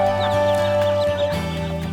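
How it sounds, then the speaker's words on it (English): Rescued ducks released in a park, their short clucking and quacking calls sounding close and fairly loud over a steady tonal background. "Chris and Barry from Wires are at a park to return the rescued ducks to the wild."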